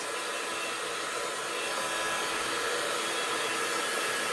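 A hair dryer blowing steadily on an art journal page, a loud, continuous airy whirr held at an even level throughout with no talking.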